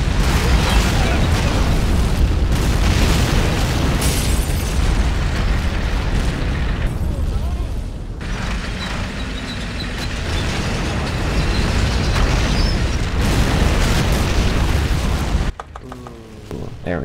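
Artillery firing and explosions in Men of War: Assault Squad, a Japan versus USA 4v4 battle on the Grand Suburb map, forming a loud, dense, continuous barrage of booms and blasts that drops away near the end.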